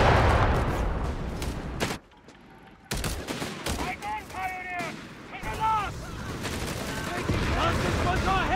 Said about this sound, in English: there's the first shot onto the Greyhound, so it's forced to back away